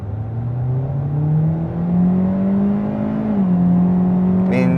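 A 2026 Hyundai Elantra SEL Sport pulls away hard from a standstill in sport mode, its engine note climbing steadily and loud inside the cabin, dipping briefly at a shift before rising again, with a short exclamation near the end.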